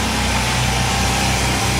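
A car engine idles steadily after repair work, with a cleaned throttle body, heard as a continuous low, even hum for the whole stretch with no talk over it.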